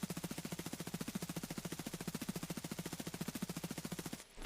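Rapid point-firing of a rifle fitted with a red laser in Escape From Tarkov: a steady, evenly spaced stream of sharp shots for about four seconds, loud and close, ending abruptly with no talk over it.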